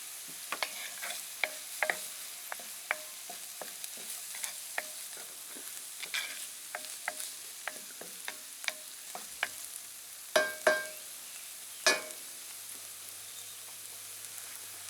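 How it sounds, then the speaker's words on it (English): Ground-beef chili base frying in a cast-iron Dutch oven at a basecamp, a steady soft sizzle with scattered crackles and pops and a few louder clanks of a utensil near the end, with no voices. "we're just going to let this fry down for a minute or so"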